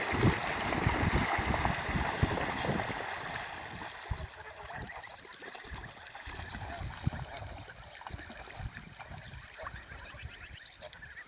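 Young broiler goslings bathe in water, keeping up a steady, close run of splashing, dabbling and trickling that lasts throughout, with no talk over it.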